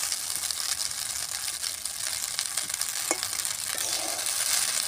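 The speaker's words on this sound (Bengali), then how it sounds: "বাড়ির যে যে উপকরণগুলো আছে সেই উপকরণ দিয়ে চাউমিনগুলো ভাজছি।" Chowmein noodles fry in a little oil in a village-style kitchen, giving a steady, close hiss with an occasional utensil scrape, and no voices.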